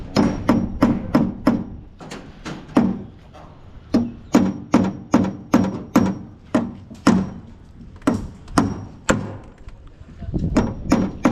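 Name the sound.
hammering nails into construction centring formwork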